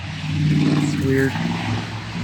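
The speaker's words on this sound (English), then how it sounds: "It's a noisy truck" A noisy truck rumbles past outdoors near horses, a low engine drone with a brief rising whine midway, while a person talks over it.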